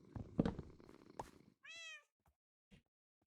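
A cat in Minecraft purrs in a rough low rumble, then lets out one clear drawn-out meow, followed by a couple of faint short sounds.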